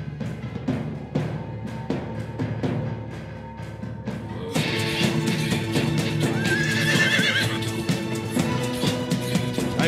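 A horse in the video game Rising Kingdoms neighs and whinnies loudly over a busy game soundscape, with a steady rhythm of hoof clip-clops and a fuller, denser mix of game sound joining partway through.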